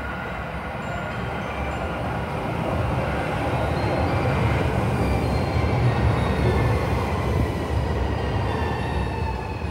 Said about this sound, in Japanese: The train is arriving soon.